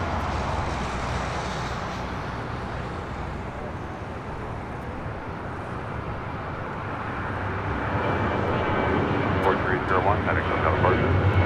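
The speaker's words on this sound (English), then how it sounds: "This is American Airlines Flight 1 coming in from JFK on an A321." An American Airlines Airbus A321 arriving at LAX from JFK makes a broad, steady jet roar that swells slightly louder near the end. A person talks over the aircraft noise.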